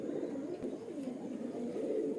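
Pet pigeons coo in soft, low, rolling murmurs that run continuously and overlap, close by and fairly quiet, with no voices.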